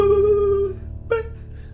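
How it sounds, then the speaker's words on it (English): Recorded sonar pings: a sustained electronic tone that fades, followed by a second shorter ping with a sharp attack over low background hum, no talk. "And so they give you audio recordings of sonar pings."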